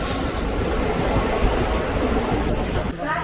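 A passenger train runs near Pakala with a steady, dense rumble of wheels and carriage noise that fills the whole clip, close and loud, then drops in level near the end.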